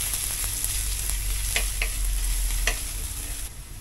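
Onion sautéing in a pan gives a loud, steady close sizzle with a few sharp spatula scrapes and stirring knocks, tapering off near the end.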